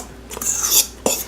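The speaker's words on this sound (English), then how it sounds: "So just stir that up." Utensil scraping and clinking against a bowl while apple cider donut ingredients are stirred together, a few short bursts of close, moderately loud clatter with no talking.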